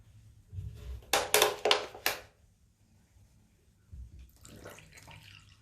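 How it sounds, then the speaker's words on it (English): Drain-unblocking solution is poured into a clogged bathroom drain in several short, loud, splashing gushes, then a quieter trickle with faint handling sounds. "So I'm going to pour the solution in and then you leave it there for half an hour."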